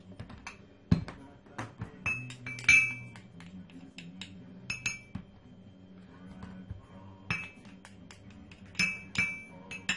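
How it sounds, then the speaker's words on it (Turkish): A utensil clinks and taps against a bowl while avocado and egg yolk are mixed for a face mask, with irregular sharp knocks and scraping at close range. "Şimdi bunları hemen bir kapta karıştırıyorum."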